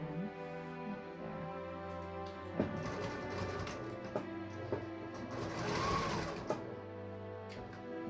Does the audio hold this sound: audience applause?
no